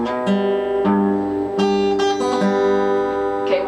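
A guitar riff played alone on an electric-sounding guitar, a few plucked and slid notes in a short rhythmic phrase, close and clear.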